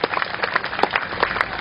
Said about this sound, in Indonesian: Tepuk tangan semuanya untuk Pak Mustafa.